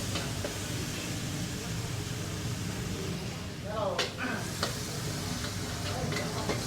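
Pork for pad kaprao stir-frying over roaring flames at a Bangkok street stall, a loud continuous sizzle and crackle with clanking wok strokes, close up; a voice talks over it.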